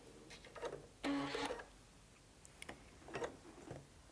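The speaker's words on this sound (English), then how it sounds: "continue sewing off, and we'll cut the thread" Sewing machine stitching quilt pieces together at a seam corner, giving a few short, faint mechanical whirring bursts separated by quiet gaps.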